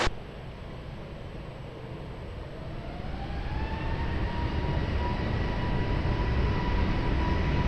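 An airliner rolls for takeoff at Lisbon Airport, its broadband engine roar building steadily from a low rumble to a loud, sustained thrust with rising turbine whine.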